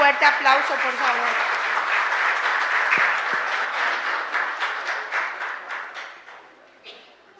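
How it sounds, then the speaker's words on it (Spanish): A church congregation at Mass gives a strong round of applause, many hands clapping together near and loud, with voices mixed in early on, then the clapping gradually thins and fades away. "Un fuerte aplauso, por favor."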